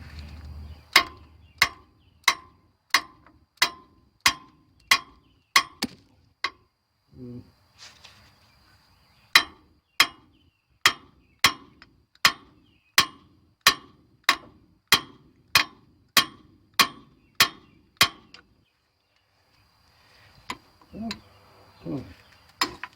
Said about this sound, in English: Looks like I might need to be beating on this with a hammer.